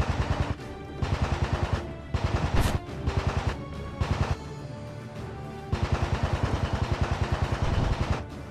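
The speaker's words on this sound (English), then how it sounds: "Machine guns." Machine gun fire in a World War II VR game, loud rapid bursts of evenly spaced shots repeating in several strings, with an engine drone underneath between bursts.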